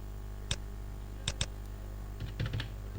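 Several sparse keystrokes are typed on a computer keyboard in a quiet room, landing as a few isolated clicks followed by a short, closer cluster of taps, with no one speaking.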